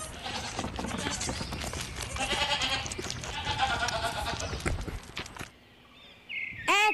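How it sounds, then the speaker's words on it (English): A goat bleats amid a busy mix of children's-song style sounds, followed after a short quiet gap by a brief, bright rising-and-falling call near the end. "G for goat."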